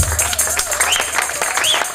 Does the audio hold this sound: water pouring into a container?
no